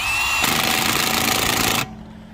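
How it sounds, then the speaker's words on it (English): Impact wrench on a Land Rover Discovery's locking lug nuts: a loud, close burst of rapid hammering lasting about a second and a half, then it stops, leaving a quiet hum. "you're not supposed to use the impact on these locking lug nuts, but you can as long as you're pushing in"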